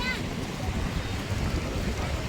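Sea waves wash onto the shore at Siber, a continuous rushing surf with wind buffeting the microphone, close and fairly loud with no break.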